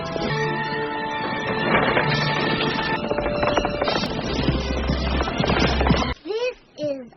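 Horses gallop in a dense, loud rumble of hooves mixed with wind and action noise from a 1992 movie, ending with short neighs as the clatter drops away.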